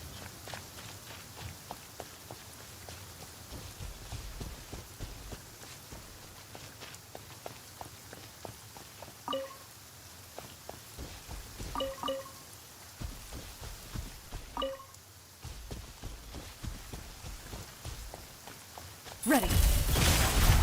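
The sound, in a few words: rain in the video game Genshin Impact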